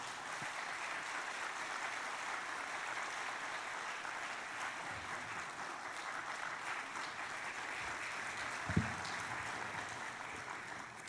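A church audience at a 20th-anniversary mission revival meeting claps steadily and warmly as the pastor comes up to the stage, a dense, continuous wash of applause heard from within the hall with no voices above it.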